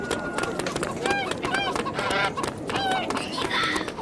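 Fowl clucking and honking calls from a poultry vendor's stall in the medieval town of the audio game A Blind Legend, several repeated calls over busy street ambience with footsteps.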